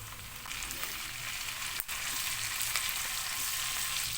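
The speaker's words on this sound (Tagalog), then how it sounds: "Masarap 5-9, nagigisa-gisa din yung mga ricado nito" Ginger, onion and spices sautéing in a pan for laing, a dense and steady loud sizzle that fills the whole stretch, broken by one brief clack from a utensil near the middle, with no talking.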